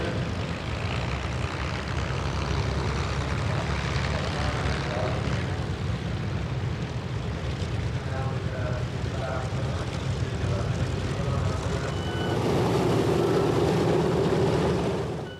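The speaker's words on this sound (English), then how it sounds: "the bellowing of radials and inlines announces the climax and finale of the show, as aircraft taxi out onto the grass and the hard runways" Radial and inline piston aircraft engines rumble as planes taxi onto grass and hard runways at a British airshow, a dense, continuous droning roar that swells toward the end, with a voice talking over it.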